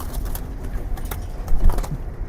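A domestic pigeon from a breeder's loft coos softly nearby amid faint rustling and handling noises, with a slightly louder stretch partway through.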